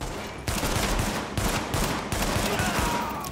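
Pistol fire in The Division video game: loud, dense bursts of shots starting just under half a second in, recurring in waves with brief dips between them, heavy and continuous throughout.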